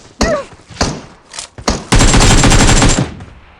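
Gunfire in PUBG Mobile: a few separate sharp shots with echoing tails, then a loud, sustained burst of rapid automatic fire lasting about a second, close and dominant.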